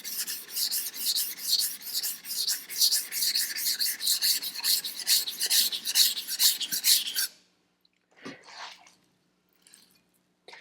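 Kitchen knife being thinned on a sharpening stone, soft cladding grabbing the stone: a steady, close run of rhythmic rasping strokes, then a few sparse scrapes and wet taps after a pause.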